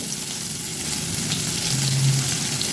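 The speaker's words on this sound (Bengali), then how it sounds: "পটল আগে দিচ্ছি পটল ভাজতে টাইম লাগে পটল বরবটি সবই এগুলো ভাজতে" Pointed gourd and yardlong beans frying in plenty of oil in a pan for a traditional Bengali shukto, a steady close sizzle that holds throughout.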